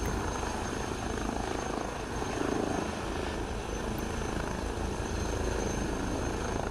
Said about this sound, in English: Hot damn, what a good looking helicopter.